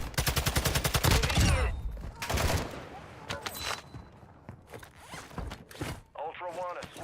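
A rapid burst of automatic gunfire in the shooter game Call of Duty DMZ rattles loudly at the start, followed by scattered later shots and game sounds, with voices speaking over the action.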